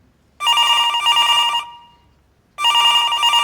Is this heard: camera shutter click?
no